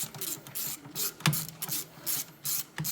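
A quarter-inch drive ratchet turning screws in the engine bay of a Ford Mustang, heard as short, close bursts of fast clicking that repeat in an uneven rhythm over a quiet background.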